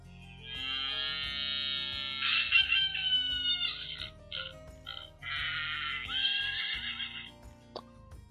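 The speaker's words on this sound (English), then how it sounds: "press the button to hear all the animal sounds again." Farm animal sounds from a children's sound book button: a horse neighs loudly, followed by a rooster crowing and other animal calls, electronic and close, with no talking.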